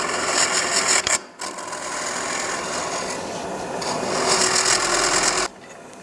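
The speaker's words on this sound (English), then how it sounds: "I'm now going to get out a much bigger spindle gouge that will have a little more rigidity this far off the tool rest." A large spindle gouge cuts wood spinning on a lathe, making a loud continuous rasping scrape that stops briefly near the start, runs steadily for several seconds, then cuts off abruptly.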